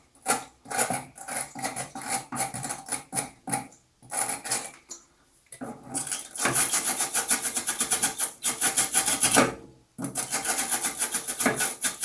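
Rusty edge of an old pipe on a Baxi 105e boiler's filling loop being scrubbed clean, a raspy rubbing scrape in repeated bursts with short pauses between strokes.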